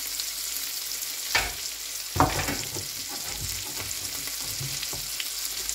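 Salmon sizzles in butter with garlic and ginger in a pot, a steady close frying hiss broken by two sharp knocks of cookware, with no talking.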